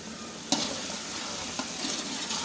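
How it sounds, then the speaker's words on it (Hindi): Potatoes and chicken fry in a pan with ginger garlic paste, a steady close sizzle broken by a couple of sharp scrapes of a spoon stirring, short and without talk. "तो पहले मैं 2 मिनट आलूओं को और मज़ीद अच्छी तरह से भून लेती हूँ"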